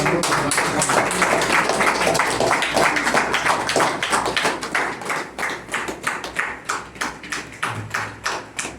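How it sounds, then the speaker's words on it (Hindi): An audience at a district-level award ceremony for painters and artists claps steadily and loudly for several seconds, with the applause thinning into scattered individual claps toward the end. "चलिए बहुत जोरदार ताली"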